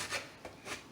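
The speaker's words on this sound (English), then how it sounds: "I'm going to go ahead and just use the small grater screen to get the zest" Citrus being zested on a small grater screen: a quick series of soft, faint rasping strokes, close and alone.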